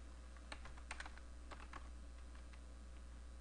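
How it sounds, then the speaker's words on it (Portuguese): Quiet, close tapping on a computer keyboard, a short run of irregular keystrokes over a low steady hum, fading to sparse clicks. "Vou digitar aqui Patrick, né?"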